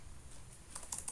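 Someone types a command on a computer keyboard, producing quiet, close key taps that start sparse and become a quick cluster of clicks near the end.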